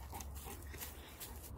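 A Cane Corso whines softly in short, faint whimpers against quiet background hiss.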